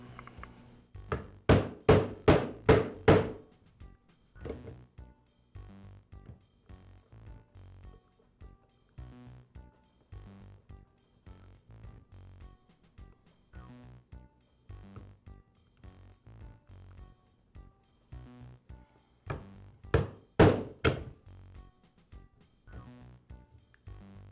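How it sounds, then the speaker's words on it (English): A Makita drill housing is tapped against a block of wood to free the reduction gear, giving two sharp clusters of four or five quick knocks, one at the start and one near the end, with faint clatter between. "I'll tap the housing against a block of wood until the gear starts to come out."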